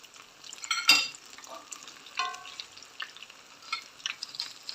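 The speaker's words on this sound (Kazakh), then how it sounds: "Осылай қуырып аласыздар." Floured zander fish cutlets fry in a pan with a soft, uneven sizzle. Brief spatters and faint utensil sounds rise and fall over a quiet background.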